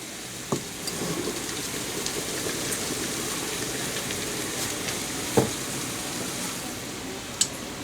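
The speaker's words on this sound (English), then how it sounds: "we are going to dump the really hot boiling water on top of our petals" Steady hissing, splashing wash of boiling water pouring onto flower petals, with a few soft knocks and taps over the continuous rush.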